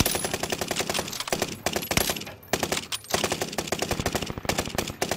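Rapid automatic gunfire from a Call of Duty: Modern Warfare match, loud and close, with dense bursts of shots rattling almost nonstop and only brief pauses.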